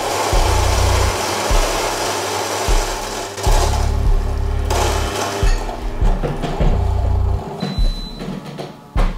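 A Fellow Ode Brew grinder grinds coffee beans with a loud, continuous whirring drone, close by, its pitch and pulse shifting slightly as the beans feed through.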